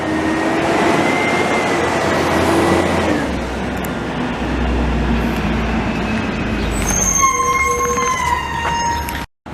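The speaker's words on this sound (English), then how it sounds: "I had to film that that garbage truck getting loaded there" A garbage truck being loaded on a Mile End street in Montreal, Canada, rumbles and whines with a steady engine drone, then hydraulic tones and clanking mechanical squeals near the end, close and loud.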